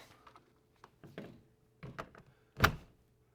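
An RV entry door being shut after a door lock replacement, a few faint soft knocks and rattles leading to one sharper, louder thunk as it closes.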